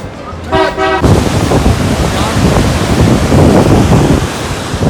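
Waterfall at Chalas, a steady broadband roar of rushing water close by, loud and continuous, with a brief tonal honk at the start.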